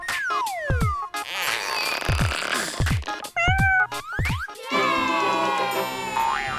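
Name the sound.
cat meowing, stuck in a tree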